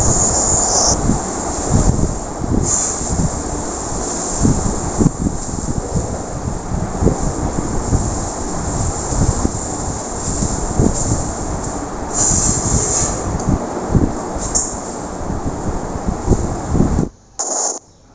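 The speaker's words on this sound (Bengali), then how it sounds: "মেশিনে শাখা কাটা হচ্ছে সেই আওয়াজ" Machines cutting conch shell bangles in a village workshop area give off a loud, continuous grinding whir. The roar holds steady throughout with no talk, then briefly drops out near the end.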